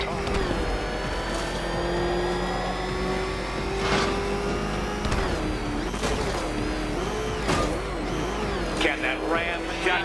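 Car engine revving in the Batman: Arkham Knight video game, a sustained engine drone rising and falling in pitch with several sharper revs, heard with game music or effects in the background.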